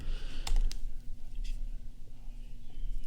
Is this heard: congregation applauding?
no